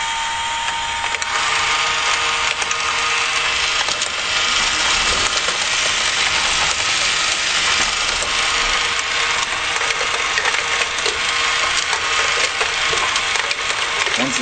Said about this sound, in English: here's another way to use the battery operated conveyor